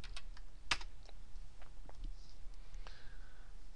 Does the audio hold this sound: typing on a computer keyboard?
yes